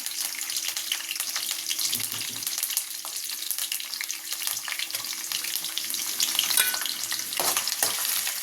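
Curry leaves and onion frying in a home kitchen pan, a continuous loud sizzle with crackling oil pops and occasional stirring scrapes, no voices.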